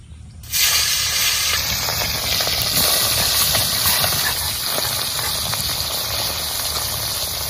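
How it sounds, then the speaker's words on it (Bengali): Tengra fish dropped into hot mustard oil in a heated wok set off a loud, steady frying sizzle that bursts in after half a second and holds continuously, close and unbroken, with no talk over it. "এবার তেলের মধ্যে মাছ দিয়ে দেবো।"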